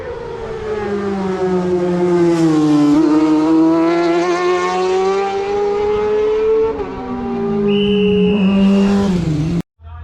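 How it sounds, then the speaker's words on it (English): A racing motorcycle engine at the junior Manx GP screams loudly through its gears, the pitch climbing and dropping through several shifts as the bike approaches and passes close by, then cuts abruptly. "We're just hearing engine noise now as the first machine comes in view."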